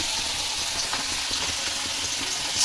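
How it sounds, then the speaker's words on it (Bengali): Fish frying in oil in a home kitchen gives a steady, loud, dense sizzle that runs unbroken throughout, with faint stirring noises under it. "মাছের তেল মানে মাছ ভাজা হচ্ছে"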